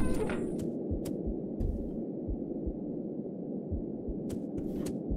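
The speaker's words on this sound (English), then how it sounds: "I hear heartbeat." A low, muffled heartbeat throbs steadily in a horror video game, faint and rhythmic under a humming drone, with occasional sharp clicks.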